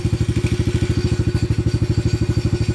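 A small gasoline air compressor engine running after starting, a steady fast chugging beat of regular thumping firing pulses, loud and close with no voices.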